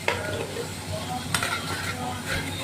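Ginger, garlic and ground spices such as cumin and coriander sizzle steadily in a pan while being stirred, with occasional scraping clinks of the spoon against the metal over a constant frying hiss.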